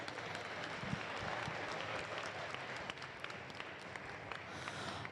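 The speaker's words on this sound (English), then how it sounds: "Let's hear a round of applause for both of our team's amazing efforts today." A crowd at an FTC robotics qualifying tournament applauds steadily, a dense continuous patter of many hands clapping, heard from a distance and fairly faint, with no voices over it.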